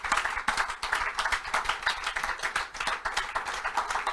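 Congregation clapping in acclaim of the Lord during a French-language church service, a steady, dense patter of many hands filling the room at moderate loudness, with no one talking over it.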